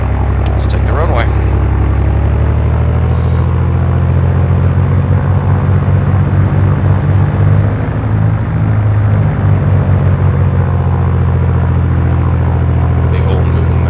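A plane in the X-Plane 11 flight simulator rolls onto the runway, its engine holding a loud, steady droning rumble throughout. Someone speaks over it.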